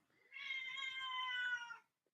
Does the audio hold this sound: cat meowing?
yes